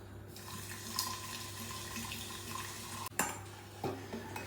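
Mineral water pours steadily into a bottle of salt for brining cucumbers, with a low hum underneath, followed by a couple of sharp clunks near the end.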